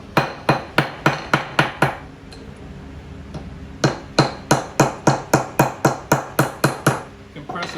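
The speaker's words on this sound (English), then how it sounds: "So I'm going to use these cabinet makers hammers," Sharp blows from a cabinetmaker's hammer strike wood with the flat face in quick, even bursts of several hits, pause briefly, then resume in a longer steady run; loud and close.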